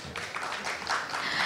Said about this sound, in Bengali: আরেকটি করতালি হবে